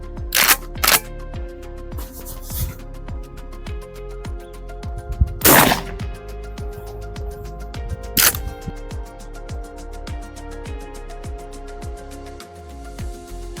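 A Hatsan Bulltac shotgun firing rifled birdshot: a few sharp, loud cracks heard over a steady mechanical ticking background, spaced irregularly with no talking.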